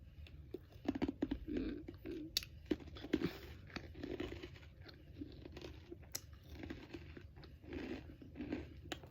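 Close, crisp crunching as someone chews an undercooked, medium-thickness Fresh Gourmet organic crouton, with a steady run of uneven bites and grinding crunches and no talking.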